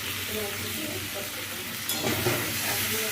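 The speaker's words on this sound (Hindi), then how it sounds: "थोड़ी सी भून लेंगे 2 मिनट तक" A turnip and potato curry sautéing in a pan, giving off a steady, loud hiss of sizzling with stirring noises mixed in, heard close up and without voices.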